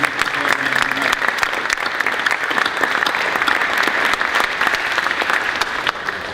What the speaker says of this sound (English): let's give them a big round of applause and appreciation for their contribution